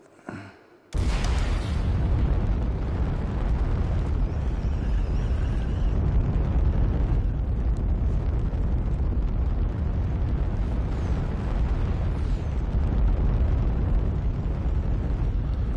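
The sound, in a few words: glider rocket firing in the video game UltraWings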